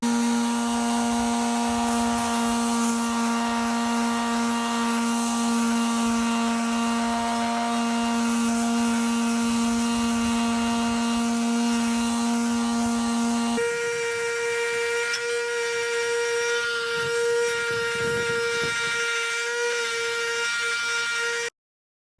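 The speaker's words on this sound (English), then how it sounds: "I got my sander out" A power sander works on patio furniture, a loud steady motorized whine with a constant pitch that shifts once partway through, continuous and close with no talking.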